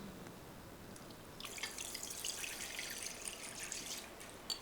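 A steady stream of water splashing into a metal pan, starting faint and growing brighter, with a few drips near the end, before milk is added for basundi.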